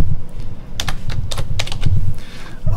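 Computer keyboard typing with quick, evenly spaced key clicks over a steady low background hum, close and fairly loud, with no speech.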